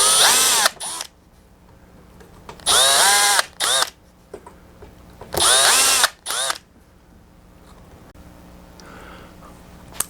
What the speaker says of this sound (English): You take this bit here, go up into each of the holes.